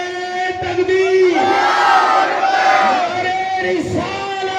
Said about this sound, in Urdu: ہاتھوں کو اٹھا کر نعرہ لگائے، نعرے